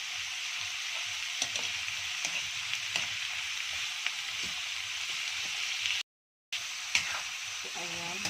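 Half a kilo of chicken feet sizzles steadily in a pan for adobo, a continuous bright frying hiss with small pops and a brief dropout, close and fairly loud with no talk.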